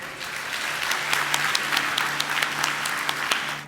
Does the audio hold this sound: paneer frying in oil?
no